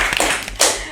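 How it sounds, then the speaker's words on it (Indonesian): Hand clapping during a school podcast with student council leaders, a few close, sharp claps in quick succession followed by a louder clap burst, with no talk over them. "Tepuk tangannya mana?"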